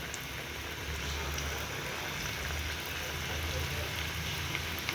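Spinach savory donuts fry in hot oil in a pan, giving a continuous soft sizzle and crackle at a fairly even level, close by.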